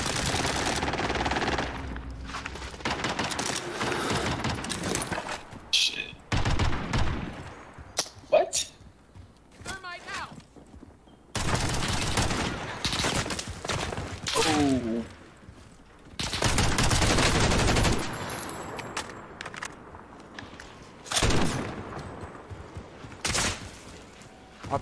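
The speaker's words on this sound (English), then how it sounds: "I'm getting shot from behind or something." Machine gun fire from a Stoner 63 light machine gun in Warzone: loud bursts of rapid shots broken by short quiet gaps, with voices heard between them.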